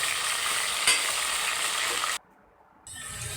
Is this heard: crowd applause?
no